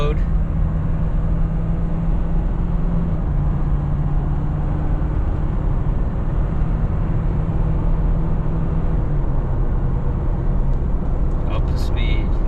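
A pickup truck on 37-inch tires tows a trailer at 75% load, its engine droning steadily as it accelerates up through the gears, with a low, even hum and slight pitch steps under constant road and wind noise.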